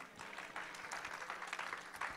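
A church congregation claps in praise, producing a steady, faint patter of applause that swells slightly with a few sharper claps, heard without clear speech.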